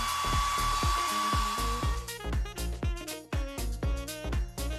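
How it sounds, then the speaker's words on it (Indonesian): Hair dryer blowing steadily and loudly at close range to melt crayons in a half-sphere mold, its whine overlaid with rhythmic percussive background music. "Gunakan pengering rambut."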